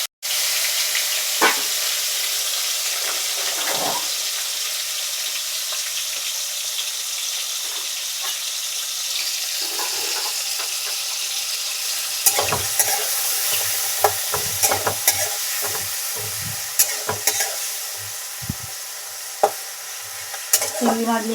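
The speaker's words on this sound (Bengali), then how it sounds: "চিংড়ি মাছগুলো ভেজে নিতে হবে হালকা করে।" Prawns frying in hot oil in a kadai, a steady loud sizzle with intermittent stirring scrapes and clatters growing more frequent toward the end, no talking.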